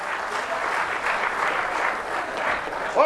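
A stage comedy audience gives sustained applause, a dense wash of clapping hands at a steady level for several seconds. A voice breaks in at the very end.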